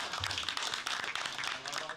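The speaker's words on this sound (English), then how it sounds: "Give yourselves a clap." Children on a youth sports team clap together in a brief, busy burst of hand claps, with voices mixed into the clapping.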